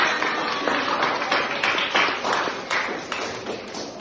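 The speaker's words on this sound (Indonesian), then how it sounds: "Tepuk tangan. Semua." A classroom of pupils claps together during a microteaching lesson, a dense run of hand claps with several stronger bursts, fairly close and steady for a few seconds.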